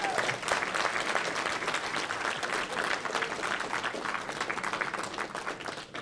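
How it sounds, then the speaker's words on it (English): Graduation audience of family and friends applauding at a technical institute commencement ceremony, a steady sustained wash of many hands clapping that fills a large hall. "Yes, you give them a round of applause."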